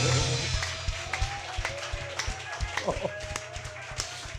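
Worship congregation clapping for the Lord during a Portuguese-language church service, rhythmic claps mixed with sung praise over a steady bass-heavy musical backing.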